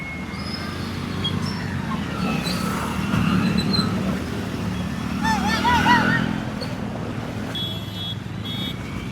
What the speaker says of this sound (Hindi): देखिए इधर ये बाइक वाले कैसे संघर्ष कर रहे हैं इधर।